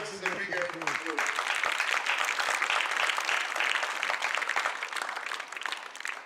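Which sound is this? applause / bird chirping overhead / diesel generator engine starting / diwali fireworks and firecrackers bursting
applause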